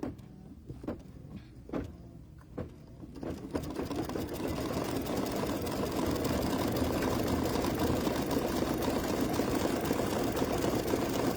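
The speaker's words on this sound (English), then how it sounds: "so now it's going to do that decorative stitch" Embroidery machine stitching a decorative stitch: a few separate mechanical clicks and taps, then a steady, fast, rhythmic whirring hum that runs on continuously at close range, fairly quiet, with no voices.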